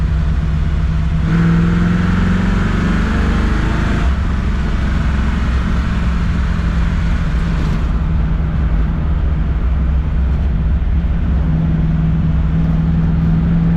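The big block engine of a 1967 Chevrolet Chevelle, still a little cold, revs loudly at high RPM, surging and holding a sustained roar close by, with no voices.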